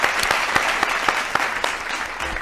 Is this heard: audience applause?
yes